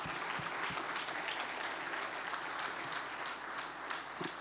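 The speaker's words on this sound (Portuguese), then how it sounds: "aplauda bem forte a palavra de Deus" A church congregation at a Sunday family service claps loudly and steadily, a dense, sustained wash of applause with no voices over it.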